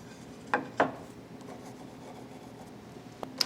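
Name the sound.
pencil marking both ends of a wooden board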